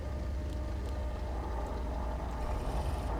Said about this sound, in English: pay attention to that lovely little bit of vibration that comes when the engine starts and kicks into life